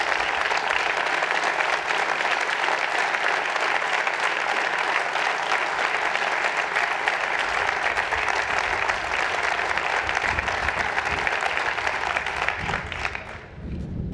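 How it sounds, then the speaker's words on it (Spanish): An audience at a political campaign speech bursts into dense, loud applause that carries on steadily for several seconds before tapering off near the end. "poco a poco voy aprendiendo que me aplaudís aunque no suba la voz"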